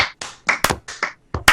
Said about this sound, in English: I think it needs a slow clap.